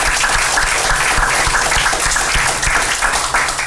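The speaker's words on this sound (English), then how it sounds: "So let's give them a round of applause for that." An audience at a library talk on scholarly reading gives a loud round of applause, dense clapping that holds steady throughout without voices.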